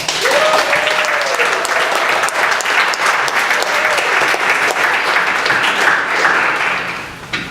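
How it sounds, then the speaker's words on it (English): Audience at a student-led brain symposium giving a round of applause for student leaders and advisors, a dense, loud, continuous clapping from a large crowd that holds steady before tapering at the end, with a voice briefly audible early on. "Let's give them all a round of applause."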